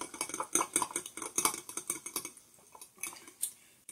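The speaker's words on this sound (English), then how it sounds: "Then I'm going to stir until it is pretty well dissolved." A stainless steel fork stirs a yeast mixture for bread, clinking rapidly and brightly against the container up close, then the taps slow and thin out toward the end.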